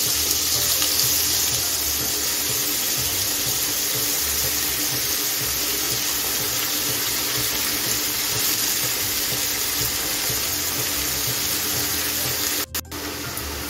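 Chopped pumpkin (chalkumro) dropped into hot oil already frying a cumin tempering gives a steady, loud sizzling hiss that holds for the whole stretch. A brief clatter comes near the end, and no one speaks.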